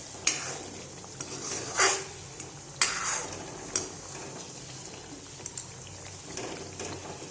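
Homemade desi ghee simmering in a kadhai on low flame, stirred now and then with a spoon that scrapes and taps the metal in a few sharp strokes over a soft, faint background bubbling.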